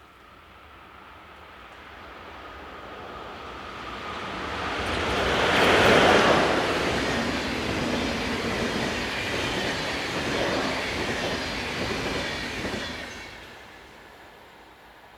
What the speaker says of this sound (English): Class 420 number 11116 has been enjoying the day shuttling between Zurich and Chur.